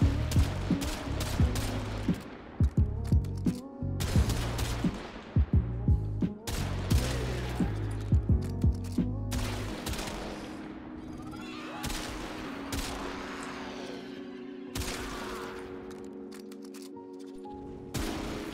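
Heavy weapon fire in the video game Warframe: loud rapid bursts of gunshots and booming impacts in the first half, then sustained layered combat noise with tonal effects continuing to the end.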